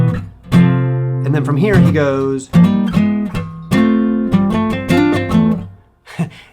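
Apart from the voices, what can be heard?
guitar playing a chord trick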